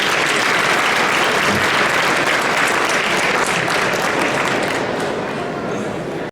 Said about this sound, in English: Another round of applause for Congresswoman Jan Schakowsky.